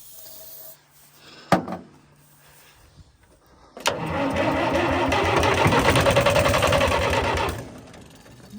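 An engine with a fuel injector problem cranks for about four seconds in a steady rhythmic churn after a couple of sharp knocks, but it does not catch.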